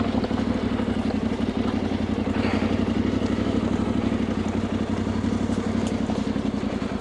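A Yamaha Tenere 700 motorcycle on off-road tyres riding a green lane, its engine drone steady and close with a constant low throb and light clatter running throughout.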